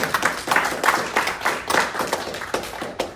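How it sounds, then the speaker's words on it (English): An audience applauds at an indoor ceremony, dense close clapping from many hands that pulses steadily for a few seconds, with no talking. "Let's give them a round of applause."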